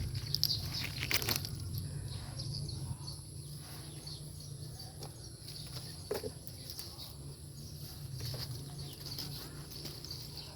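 A parrot flaps its wings in flight outdoors near a vegetable garden, a series of soft whooshing wingbeats over a steady hum of insects and faint background noise.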